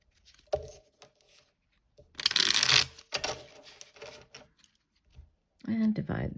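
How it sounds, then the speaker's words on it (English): A deck of tarot cards is shuffled in quick rustling, riffling bursts separated by brief pauses, close and moderately loud, with a short stretch of talk near the end. "Okay, we'll do one last shuffle."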